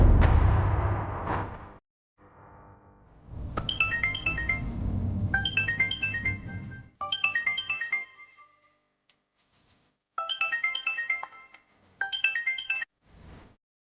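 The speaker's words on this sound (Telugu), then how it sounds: "అఖిల్ గారికి ఫోన్ చేయి ఒకసారి." A phone ringing on an outgoing call, repeated bursts of a bright electronic melodic ringtone separated by short pauses, close and clear with low murmuring at the start.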